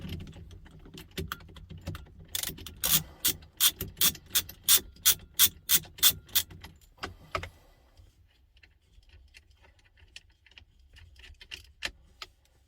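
Ratchet wrench undoing a bolt while fitting a racing steering wheel on a Porsche 924: a run of a dozen or so sharp, evenly spaced clicks up close, then a few scattered quieter clicks and faint handling noise.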